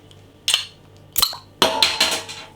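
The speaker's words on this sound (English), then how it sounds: "Let's get the beer out into a glass and see what we get." Glass clinks and a bottle being handled, then To Øl Mochaccino Messiah coffee brown ale splashes from the bottle into a glass in a short close burst.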